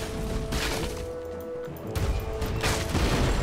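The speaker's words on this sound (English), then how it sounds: "I can use the higher cannons." Ship cannons fire in the pirate video game Pirates Online: a few heavy booming blasts crash out in quick succession over continuous loud game noise, with no talking.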